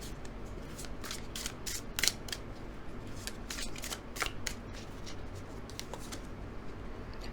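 Tarot cards are shuffled by hand at close range, a soft, continuous riffling and sliding with occasional light snaps, quiet and without talk.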